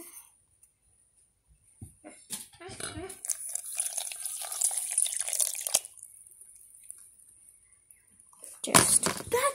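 Water is tipped from a full cup into a container, splashing and trickling in bursts with quiet gaps between, then a louder final pour near the end.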